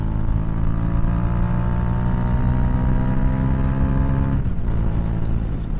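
A KTM Duke 390 motorcycle runs steadily on fresh tires while weaving through serpentine turns, its engine a constant close, loud hum with wind noise and a brief dip in pitch near the end.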